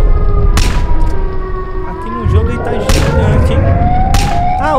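A loud, wailing siren from the Siren Head monster in a GTA mod rises and falls over a dense, rumbling din, with sharp bursts of noise cutting in at intervals.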